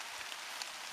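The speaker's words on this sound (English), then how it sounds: "I'm getting soaked standing here while the rain's driving in." Heavy rain from a returning storm pours down steadily, a dense, even hiss of drops hitting surfaces with no talk.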